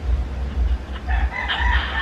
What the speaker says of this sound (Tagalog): Ala, we ang manok, uy.